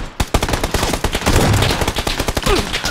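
Rapid gunfire rattles in the PUBG video game, with a fast burst of loud, sharp shots in an uneven rhythm, close and dominant throughout.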